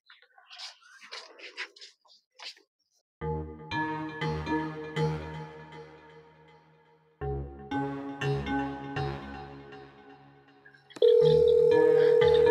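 A phone rings indoors in a rhythmic, electronic melodic pattern, repeating in loud bursts with gaps, after a short stretch of talk and ending in a sustained tone.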